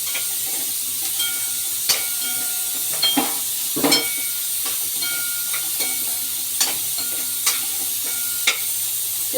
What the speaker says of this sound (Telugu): ఈ మొత్తం నూనెలో ఫ్రై కావాలి.